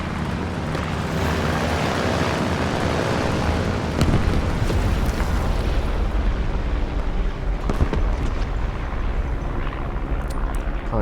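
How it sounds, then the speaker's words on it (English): Artillery strike explosions in War Thunder during Italian tank battle gameplay: a rumbling, roaring barrage of booms that swells midway and keeps pounding, heavy and continuous with no voices over it. "Artillery on B."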